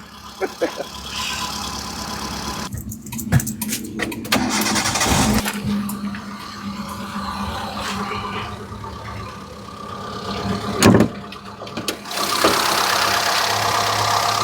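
A 2009 Santro car engine cranks and catches, then settles into a steady, rumbling idle with a few louder revs, heard fairly close with some voice in the background.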